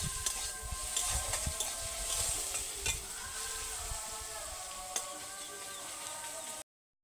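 Carrots and beans fry lightly in oil in a kadai, a continuous close sizzle broken by scraping stirs and a few sharp clinks before the sound cuts out near the end.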